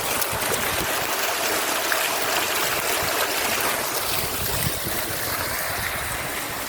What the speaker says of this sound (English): that's the waterfall right here